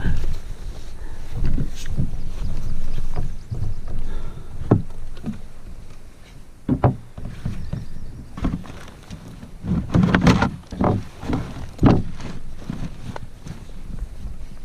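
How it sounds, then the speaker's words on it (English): Scraping and thumping as a canoe slides off poplar skid logs, with scattered knocks and wind noise outdoors, no talking. "sliding the boat off the poplar skid logs"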